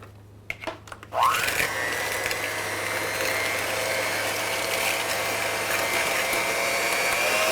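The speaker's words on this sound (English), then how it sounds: "We're going to whisk those until they get light and frothy" An electric hand mixer whisks brown sugar and one egg in a bowl at medium speed, starting up after a few clicks and then whirring steadily and loudly without a break.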